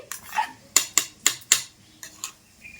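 Mixing an egg and cabbage batter in a bowl, a series of sharp metallic clinks as a spoon strikes the dish, roughly eight distinct taps spaced unevenly, close and clear with no talk.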